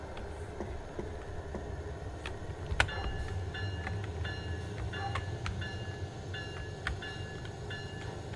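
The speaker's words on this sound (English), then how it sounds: "Let's get this train moving." A steady rumbling train in Train Sim World 3 on Cajon Pass between Victorville and San Bernardino runs along the rails, with low continuous rolling noise and a few sharp metallic clanks over it.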